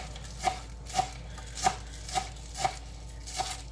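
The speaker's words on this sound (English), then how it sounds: "Just continue chopping" A knife chops vegetables for lo mein on a cutting board, six evenly spaced crisp knocks at a steady, unhurried rhythm against a quiet background.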